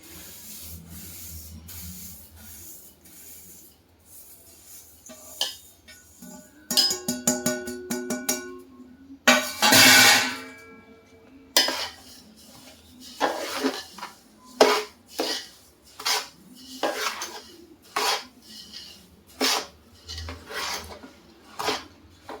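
Spoon stirring a sesame ladoo mixture in a pan with melted jaggery, giving repeated close scraping and clinking strokes in an uneven rhythm, with no voice over the sound.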